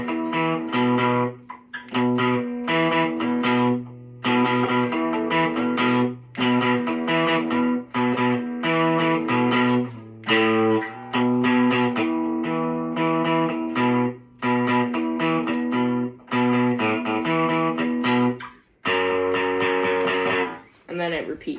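A distorted electric guitar plays a riff in steady repeated chugging phrases with short breaks, loud and close, for about twenty seconds with no talking.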